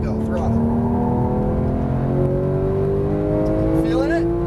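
A Porsche GT3 991 engine pulling hard under throttle on a track, a loud rising howl whose pitch climbs steadily through the revs, with a person talking over it.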